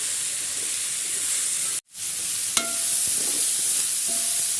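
Carrot, beans and cabbage sautéing in a pan for black kavuni rice kichdi, a steady close sizzle and hiss that cuts out briefly, then resumes with a few faint clinks of a stirring spoon.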